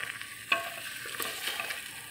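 Chicken cooking over low heat in a pressure cooker pot with no water and no oil, giving a faint continuous sizzle with a few soft crackles and pops.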